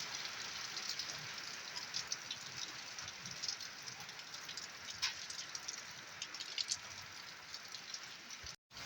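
Steady rain pours down with a dense, hissing wash and scattered drops spattering nearby, continuous and moderately loud.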